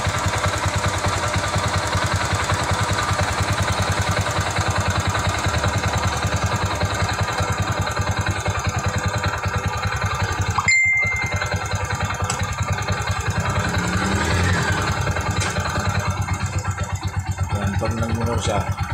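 A motorcycle engine, fitted with a new regulator and stator after a burnt regulator, idles steadily and continuously, with a brief dropout midway before the rumbling resumes at the same even pace.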